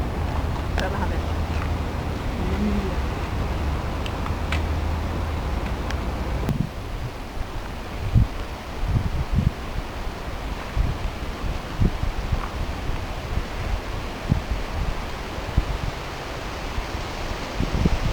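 Wind blows outdoors in gusty weather, buffeting the microphone with a steady rushing roar and low thumps that turn choppier partway through.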